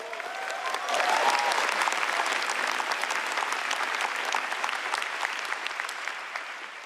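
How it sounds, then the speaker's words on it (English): A large keynote crowd at an NVIDIA event applauds, a full, steady roar of clapping that swells early with a brief cheer and then holds before tapering slightly near the end. "Everybody give a round of applause to my mom and dad."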